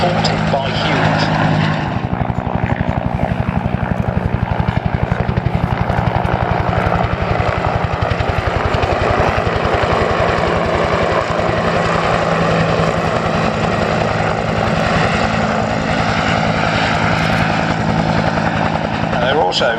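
A Bell UH-1 Huey helicopter flies at the Shuttleworth airshow, giving a loud, steady rotor and engine roar that runs the whole stretch, with a narrator's voice over it.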